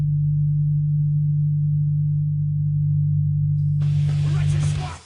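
Low-frequency band of a Lamborghini engine sound, isolated as a steady, deep droning hum that holds for several seconds before a short burst of broadband hiss near the end.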